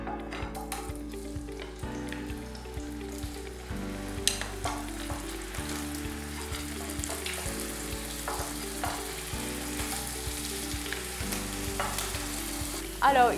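Pieces of meat fry in hot oil in a pan, a steady close sizzle with stirring scrapes running throughout under a repeating background music bed, no voices.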